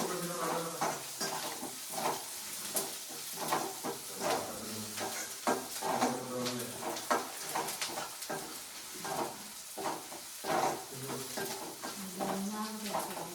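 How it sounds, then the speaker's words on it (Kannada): Garlic frying in a pan while being stirred, a steady sizzle broken by repeated scraping and stirring clatter of a utensil against the pan, close and moderately loud throughout. "ಇದು ಬೆಳ್ಳುಳ್ಳಿ ಸ್ವಲ್ಪ ಹಸಿ ಹೋಗೋ ಗಂಟ ಉಟ್ಕೊಳ್ಬೇಕು"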